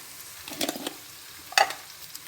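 Onions fry with tomato paste in a pan for sulu köfte, a quiet background sizzle broken by a few short scraping stirs and clinks of a utensil against the pan; no speech.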